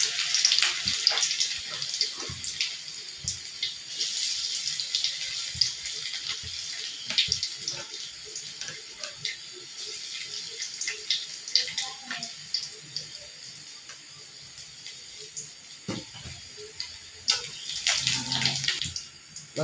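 Chopped garlic fries in hot oil in a pan, browning, giving a steady close sizzling hiss scattered with small pops and crackles, with faint clinks of utensils.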